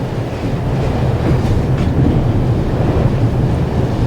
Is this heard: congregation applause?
no